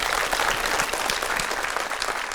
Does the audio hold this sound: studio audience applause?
yes